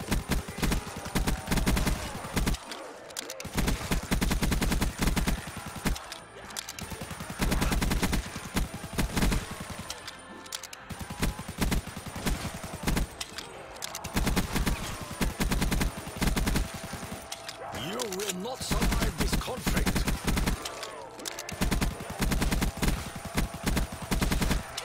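Rapid rifle gunfire in Black Ops 3 Custom Zombies on the West Trading Company map, loud close bursts of shots running almost without pause, broken by a few brief gaps.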